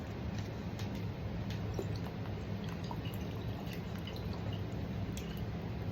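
Worcestershire sauce poured into a simmering pot of homemade beef stew with potatoes, a soft, steady liquid trickle and faint drips over a constant low bubbling background, with no talking.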